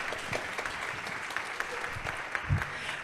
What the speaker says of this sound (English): And yeah, you can clap.